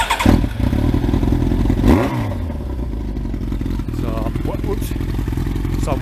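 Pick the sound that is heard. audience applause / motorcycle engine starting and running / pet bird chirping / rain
motorcycle engine starting and running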